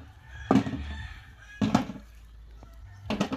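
Chicken clucks and crows in three separate bursts, spaced about a second apart, moderately close against a quiet background.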